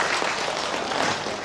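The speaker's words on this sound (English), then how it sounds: "So another big applause," Dense, steady applause from a seminar audience welcoming a professor, many hands clapping at once and filling the hall evenly throughout.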